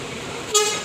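A Sentosa bus at a busy bus terminal gives one short, clear toot of its horn near the end, over a low hum of traffic.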